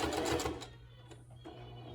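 Sewing machine stitching fabric for a face mask, a short close burst of rapid mechanical whirring that stops, followed by a few faint clicks and a soft hum.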